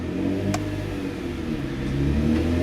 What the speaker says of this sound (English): we're in gear. First gear, get a little gas.